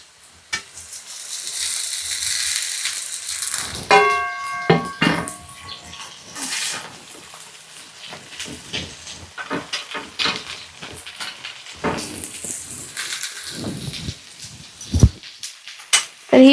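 Chopped phanji wild greens tipped into hot spiced oil on a wood-fired stove, giving a sharp sizzle followed by intermittent crackling and stirring clatter as the greens fry.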